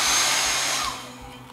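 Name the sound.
hair dryer drying a craft piece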